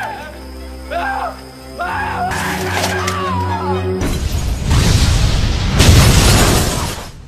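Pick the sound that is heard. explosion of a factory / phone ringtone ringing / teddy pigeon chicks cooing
explosion of a factory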